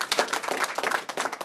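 Audience at a public safety press conference giving a round of applause for Barry Stanton, a brisk, close burst of many hands clapping in irregular rhythm, fairly loud and without talk over it.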